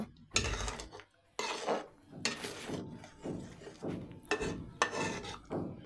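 Taro roots (kochu mukhi) with green chilies and coriander leaves being stirred in a pan, giving repeated rasping, scraping strokes of a spoon against the pan in an uneven rhythm, close and fairly loud, with no talking.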